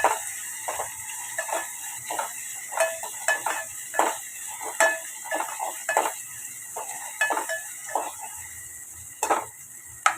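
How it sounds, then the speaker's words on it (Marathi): Onion being sautéed in oil in a pan over high gas, with repeated metallic clinks and scrapes of a spoon against the pan above a low sizzle, close and irregular. "थोडा मी गॅस फास्ट केला आहे कांदा परतण्यासाठी."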